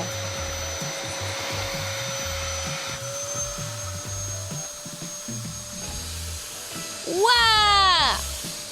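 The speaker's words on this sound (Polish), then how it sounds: "Wezmę odkurzacz i odkurzę to w minutę." A vacuum cleaner cleaning up after a party runs with a steady droning whine throughout. Near the end a rising, swooping tone briefly grows louder over the motor.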